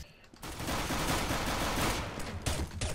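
Rapid, sustained shotgun and weapon fire from CS:GO fills nearly the whole stretch, loud and close, with brief dips at the start and near the end where shots break off.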